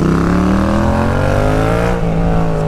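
A loud, close Yamaha MT-07 motorcycle engine climbs in pitch as it revs hard during a wheelie, a sustained rising whine with a brief dip near the end.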